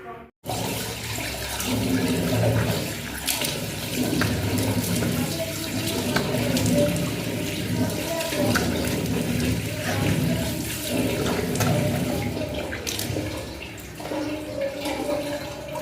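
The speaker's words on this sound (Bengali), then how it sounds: "আর এখন আমি এই যে মুখ ধুতে এসেছি" A tap runs steadily in a home sink while someone washes their face, a continuous broadband rush of water with splashing variations, close and fairly loud throughout.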